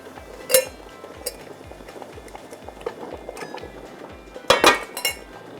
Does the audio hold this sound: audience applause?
no